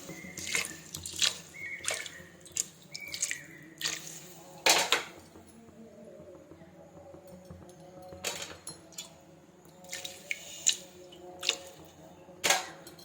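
Water poured into a pot of mung dal khichdi, a Jagannath temple-style offering dish, making a faint, intermittent splashing and trickling with several short louder bursts against a quiet kitchen background.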